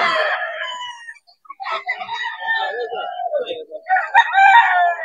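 Roosters crow and chickens cluck at a busy poultry market, several birds calling close by in overlapping bursts with a short lull in between.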